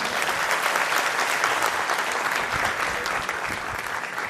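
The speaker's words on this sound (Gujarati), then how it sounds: "વિવેકને એકવાર જોરદાર તાળીઓથી હજી એક વખત." A large crowd at a community gathering gives a loud, sustained round of applause, the dense clapping filling the room at full strength without letting up.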